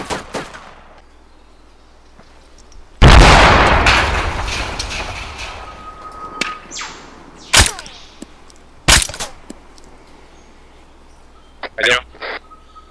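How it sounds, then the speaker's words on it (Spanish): Gunfire in the Arma 3 video game: a long, loud burst of sustained automatic fire, then several sharp single shots spaced apart, with quiet stretches between them. "Disparando."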